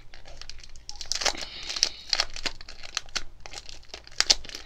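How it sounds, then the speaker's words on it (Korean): A mailed package is torn open by hand, with loud, close bursts of crinkling and ripping paper and plastic coming in uneven clusters with short pauses. "한번 뜯어볼게요"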